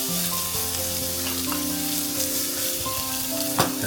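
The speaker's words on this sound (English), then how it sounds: "I'm going to first fry the onion." Onion fries in hot oil in a pan, a loud, dense and continuous sizzle close by, with a few faint clinks and no talking.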